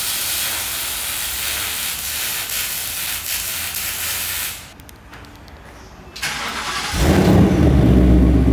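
A Ford Mustang Mach 1 fitted with a new H-pipe exhaust, heard as a steady hissing rumble that dips briefly and then swells into a louder, deeper engine roar near the end.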